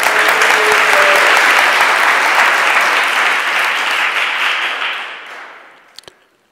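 An audience at a religious discourse and play performance in Udhampur breaks into loud, dense applause that holds steady, then fades away to silence over several seconds.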